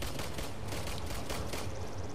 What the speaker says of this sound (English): Although, there are many gunshots.